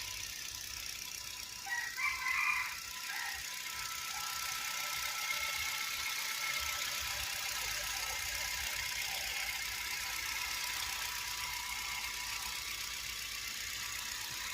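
A 2017 car engine runs with the hood open, a faint, steady hum that stays constant throughout, with a brief rattle near the start.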